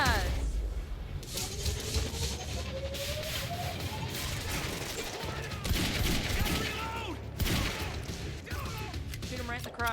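Rapid bursts of gunfire in the video game Quantum Break crackle throughout, dense and continuous with a few louder volleys, while people talk excitedly over the shooting.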